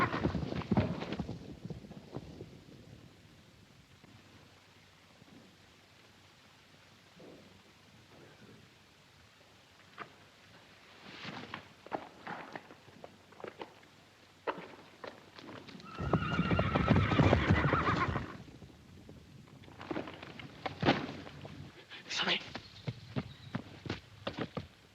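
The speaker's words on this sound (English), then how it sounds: "Damn them horses. Stampeded again." Stampeding horses, a 1941 film scene: a herd's hooves drum and clatter with sharp neighs and whinnies, swelling loud in the middle and again near the end, with no talk over it.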